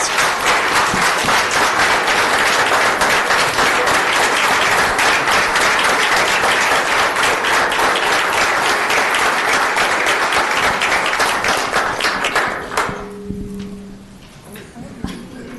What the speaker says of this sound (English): please let us join me in thanking them one more time with a round of applause